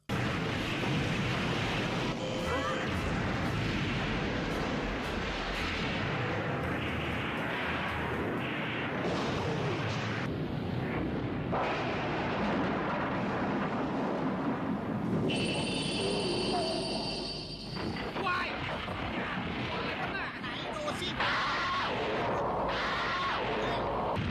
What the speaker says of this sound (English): the scientist decided to launch all of his rockets at once